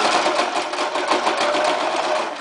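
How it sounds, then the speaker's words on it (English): A sewing machine runs steadily and close up as it stitches a onesie extender flat, a fast, even mechanical whirr with no talk over it. "we're going to go ahead and just sew that flat down"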